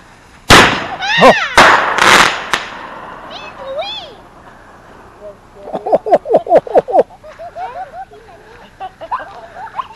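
Fireworks go off at a camp at night: several sharp, loud bangs with whistling shells early on, then a rapid run of popping crackles, with occasional voices in between.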